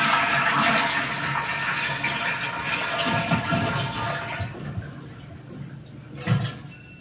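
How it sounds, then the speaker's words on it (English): A toilet being replaced is flushed to empty its tank: a loud rushing gush of water swirls for several seconds, then drops sharply to a quieter trickle, with a short gurgle near the end. "you want to flush to empty all the water in the tank"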